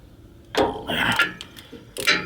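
A 3/4 inch socket turns on the transmission plug of a 2016 Ford F-150, giving a few close, sharp metallic clicks and ratcheting bursts in quick succession.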